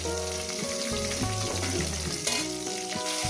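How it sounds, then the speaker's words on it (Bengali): Silver carp pieces frying in hot oil make a continuous close sizzle, with tonal background music running underneath and no talk. "মাছটা উল্টে দিয়েছি মাছগুলো ভাজা হয়ে গেছে"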